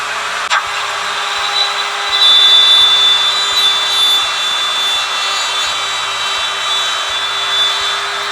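Router cutting flutes into a wooden pot mounted on a router lathe, a steady high whine with a constant hum running through about eight seconds, close and fairly loud, no talking.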